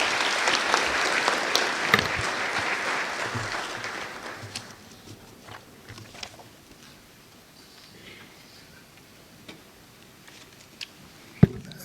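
A conference audience at a government budget launch claps for the first few seconds, fairly loud and dense, then thins into scattered claps and fades to a quiet room with a sharp knock near the end.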